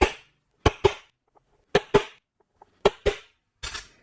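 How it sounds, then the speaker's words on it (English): Several sharp metallic hammer strikes on a center punch over metal workpiece layout marks, arriving in spaced pairs with a softer final blow, close and isolated in a quiet shop. "I'll increase the size of those center punch marks a little bit."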